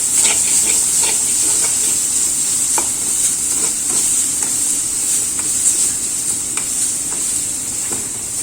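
Turmeric and black pepper stirred into a sizzling pan of hot oil, a constant bright frying hiss with soft scraping stirs at irregular intervals, close and steady throughout.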